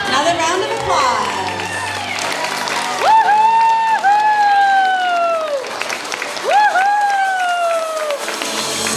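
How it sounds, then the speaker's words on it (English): Audience clapping and cheering in a school assembly hall at a fifth grade farewell, continuous applause under a loud speaking voice and high-pitched calls. "Another round of applause."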